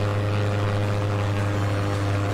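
A transport plane's propeller drones through Attack On Toys, a steady, unbroken low hum with a sustained pulsing tone, heard alone at moderate volume.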